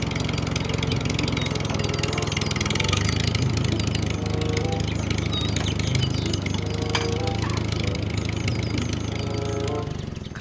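A toy tractor's motor runs steadily from start to finish, a loud, continuous mechanical buzz with a rapid knocking rattle like a small engine idling.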